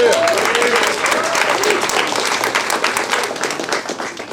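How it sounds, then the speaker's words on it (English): Loud, close audience applause at a real estate meetup, many hands clapping in a thick continuous burst, with a voice and some cheering mixed in that slowly tapers toward the end. "So clap it up for both"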